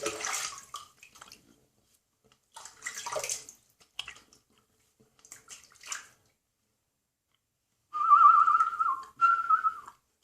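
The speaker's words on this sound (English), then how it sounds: "what I'll do now is I'll rinse," Running water splashes and patters close by as a face is rinsed after shaving, coming in several short bursts with pauses, then a steadier whistling tap flow near the end.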